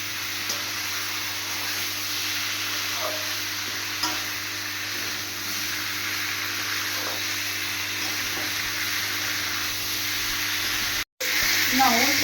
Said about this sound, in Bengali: এই একটু জল দিয়ে দেওয়া হচ্ছে, হালকা করে ভেজে নেওয়া হয়ে গেল